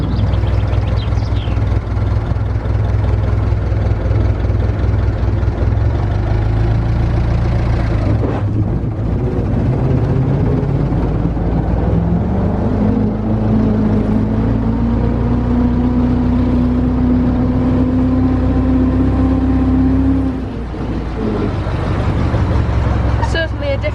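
A 1924 Dodge Tourer vintage car engine runs steadily close by, its low rumble shifting as the car pulls away and changes speed, with a rising whine mid-way and a brief dip near the end.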